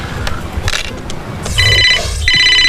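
A telephone rings loudly with a warbling electronic tone in two close bursts after a brief jumble of background noise, with no speech.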